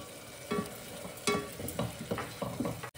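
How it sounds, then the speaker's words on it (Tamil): Tomatoes are added to ginger garlic frying in a pan for coriander pulao, giving a quiet sizzle with several distinct stirring scrapes and clinks at irregular intervals. "இப்போ தக்காளி சேர்த்துக்கலாம்."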